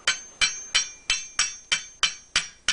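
A hammer lightly taps a pin into a Mosin-Nagant 91/30 bayonet, eight sharp metallic taps at an even, steady rhythm, close and clear with no talking.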